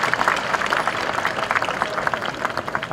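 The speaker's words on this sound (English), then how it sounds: "One more round of applause," Audience applause for graduates at the Stony Brook University commencement ceremony: a dense, steady wash of many hands clapping, sustained and fairly loud for the whole stretch, with a faint murmur of voices mixed in.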